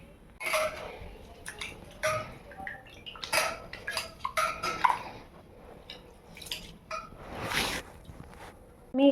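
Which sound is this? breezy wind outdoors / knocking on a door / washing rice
washing rice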